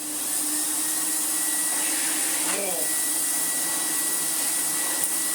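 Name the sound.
Electrolux Dolphin Silver Electronic 1000 vacuum cleaner running without filter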